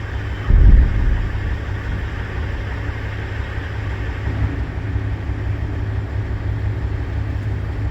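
A 1984 Chevrolet C10 truck engine cranks and fires with a loud low thump, then settles into a steady rumbling idle up close indoors.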